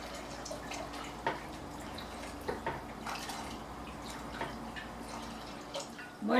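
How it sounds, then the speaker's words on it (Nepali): Water is added to chana dal with bethu greens in a pressure cooker, giving quiet, intermittent splashes and drips close by, with no talk. "अब यसमा हामीले फेरि पानी राखेर चाहिँ सिटी लाएर पकाउनु पर्ने हुन्छ"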